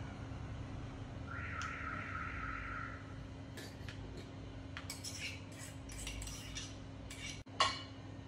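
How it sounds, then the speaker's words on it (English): Soaked chana dal tipped into a batter and mixed, faint clinks and scrapes of a spoon against a bowl, quiet and close, with a brief tonal whine and a sharp knock near the end. "Into this mix, I will now add soaked chana dal"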